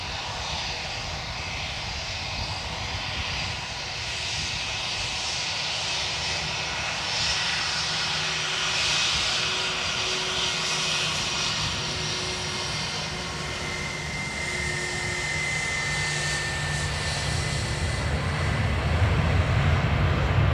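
A WestJet airliner roars on approach to runway 28 left at Dublin Airport, a loud, sustained engine drone that holds steady and swells slightly near the end, heard without voices.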